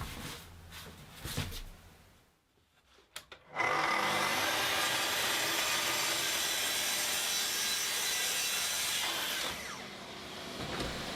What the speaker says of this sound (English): I'm cutting this to size accurately now with a track saw